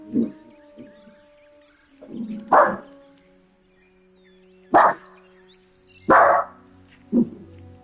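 A household dog barks indoors in scattered single woofs, several loud ones among fainter yips, spaced irregularly over several seconds, with a low steady hum underneath.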